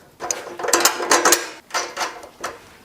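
Quick bursts of ratchet clicks tighten a bolt during Porsche 3.2 Carrera engine assembly, a few short runs of clicking separated by brief pauses, heard close up and alone.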